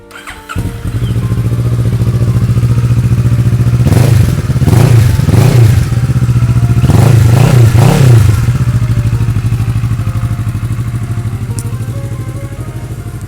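A 2012 Kawasaki ER-6N 650 motorcycle starts up and settles into a steady, close idle with a low even thrum, interrupted by a few sharp throttle blips in the middle.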